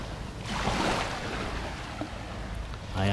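Sea waves wash around a small boat on murky, choppy water, a rushing surge mixed with wind buffeting the microphone, swelling and easing with no speech.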